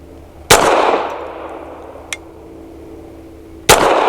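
A Canik METE SF pistol fires a soft Action Pistol load: two sharp, loud shots a few seconds apart, the first followed by a metallic clink of brass in between and ringing decay after each report.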